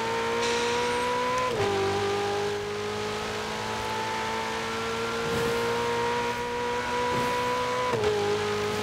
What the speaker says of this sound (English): Love the gear changes.